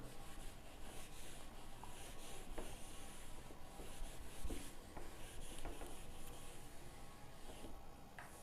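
A board is rubbed clean of trigonometry working, a steady close scrubbing and rasping that sweeps back and forth without a break and without talking.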